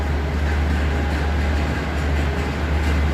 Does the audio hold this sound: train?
yes